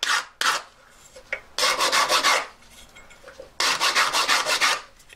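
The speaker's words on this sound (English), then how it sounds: "I made this new buff stick. This is like really coarse sandpaper." Silver lighter being sanded with a coarse buff stick, giving rhythmic bursts of harsh rasping strokes in quick back-and-forth sets separated by short pauses, close and clear with no talking.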